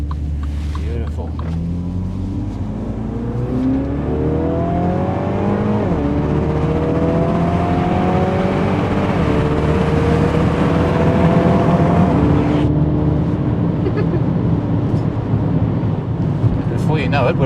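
A 2020 MINI Countryman JCW ALL4 accelerates hard from inside the cabin, its engine rising steadily through the gears with rising-pitch sweeps under a constant road rumble, as people talk over it.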